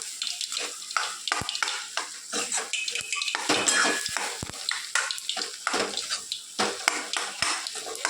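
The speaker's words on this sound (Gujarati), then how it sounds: "પહેલાં સરસ હલાવી લઈએ." Potatoes and spice mixture, with garlic, stirred in a pan with a metal spoon: steady scraping and clinking strokes against the pan, close and fairly loud, with a light sizzle underneath and no talking.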